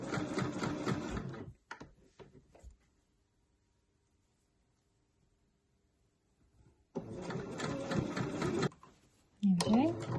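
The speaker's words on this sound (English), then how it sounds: "I'm just stitching within the seam allowance for this." Sewing machine basting a T-shirt neckline, two bursts of close mechanical whirring separated by a long quiet pause, with brief clicks and a voice speaking at the end.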